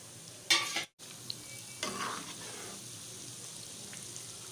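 Coated potato chips frying in hot oil in a wok, a steady soft sizzle with a couple of louder bursts as pieces go in, near and continuous.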